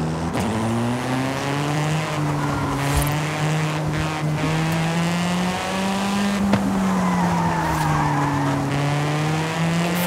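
A Ford car in the racing game Forza Horizon 5, driven with a Logitech G29 steering wheel, holds a steady, wavering engine drone while its tires squeal through a long braking skid, with no talk.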